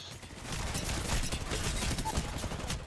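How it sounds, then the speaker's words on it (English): Sustained video game gunfire from an enemy shooting down from above, a dense rattling fusillade that fills the moment with near-continuous loud bursts. "This guy keeps shooting me from up top."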